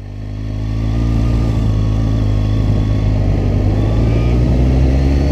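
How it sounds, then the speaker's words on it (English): A 2015 Suzuki GSX-S750 motorcycle pulls away in first gear, its engine note rising from idle into a steady, loud, close drone with no speech. "We'll go ahead and pop it into first, and we'll get rolling, guys."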